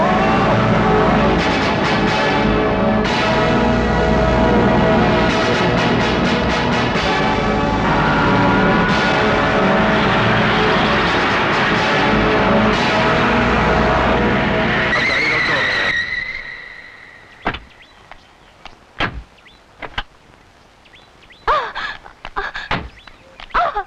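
A car revs loudly and drives off, engine roaring with skidding tires for several seconds before the sound drops away, leaving scattered sharp noises.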